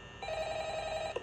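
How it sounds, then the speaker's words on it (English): A telephone rings in Five Nights at Freddy's, a single clear electronic bell tone held for about a second before cutting off. "Are you gonna answer the phone?"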